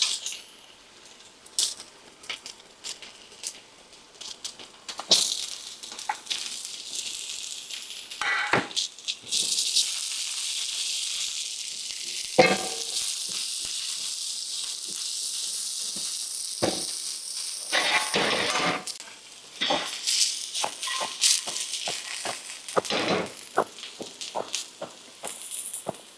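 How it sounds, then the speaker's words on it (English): Onions and carrots for yaki udon crackle and hiss in a hot pan, the sizzle swelling into a dense, bright wash with scattered clicks and scraping stirs, fairly close and without talk. "Now we're going to add in our onions and our carrots."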